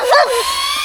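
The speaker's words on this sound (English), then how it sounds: "Quiet, mad dog." A dog lets out a single short, high bark or yip up close, a brief sharp burst over a steady background hum.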